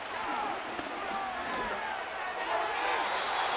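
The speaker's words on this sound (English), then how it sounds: "This crowd, they're trying to force a false start. What noise before 3rd and inches." Stadium crowd in the Madden 25 football game, Buffalo Bills versus Miami Dolphins on Thursday Night Football, roaring steadily before a third-and-inches snap, a dense sustained wash of cheering noise.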